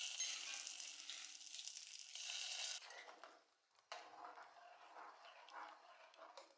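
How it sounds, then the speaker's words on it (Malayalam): Mustard seeds and dried red chillies tempering in hot coconut oil, a loud steady sizzle and crackle that cuts off sharply and resumes quieter with scattered spattering pops. "ഇനി നമുക്ക് വെളിച്ചെണ്ണയിൽ കടുകും വറ്റൽമുളകും ഒന്ന് നമുക്ക് താളിച്ച് ചേർക്കാം"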